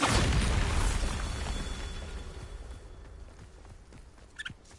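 Bombarda blasting spell explosion in the video game Hogwarts Legacy: a heavy booming blast at the start that rumbles and slowly fades, followed by faint scattered debris and a small pop near the end.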